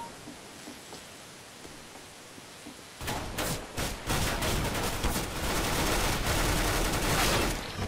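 Gunfire in a Counter-Strike: Global Offensive gun game match: after about three seconds of quiet hiss, a loud, dense stretch of rapid shots and bursts fills the rest of the clip.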